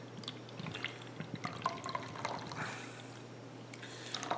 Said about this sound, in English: Open this beer up. Gotta take you a slug. Ah, good stuff. Pour this one in here.